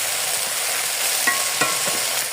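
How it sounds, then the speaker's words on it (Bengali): Moringa leaves frying in oil give a steady, close, bright sizzle with a few soft stirring knocks, and no one speaks. "তো দেখেন আমরা সাজনে পাতাগুলো ভেজে নিচ্ছি।"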